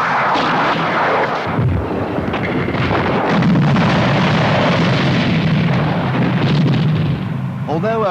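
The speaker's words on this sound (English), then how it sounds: "you can expect additional fire from heavier guns and multiple barreled rocket launchers" Heavy guns and multiple-barreled rocket launchers pound in a continuous, loud barrage of rumbling booms and blasts in a 1983 British Army training film, and the roar never lets up for the whole stretch.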